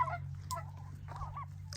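Pasture-raised turkeys on a farm gobble and call in short bursts over a low steady engine-like hum, several birds heard at moderate distance with no talking.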